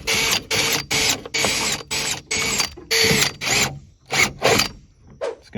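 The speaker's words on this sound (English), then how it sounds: "We're just going to drill a bunch of perforations on each side of here" A drill whines in a series of short bursts, about a dozen, each cutting off abruptly, drilling perforations in plastic, loud and close with no talking.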